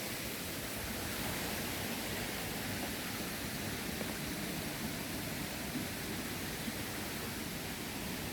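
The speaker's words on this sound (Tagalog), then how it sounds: "Dunggan nyo ng sapa" A small stream in a Hong Kong wetland gives off a faint, even wash of flowing water that holds steady throughout.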